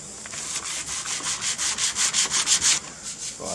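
Rhythmic back-and-forth sanding strokes on the stripped metal body of a Toyota Hilux, about a dozen steady rasping passes building in loudness, then stopping, with no talking.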